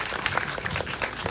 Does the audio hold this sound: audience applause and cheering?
yes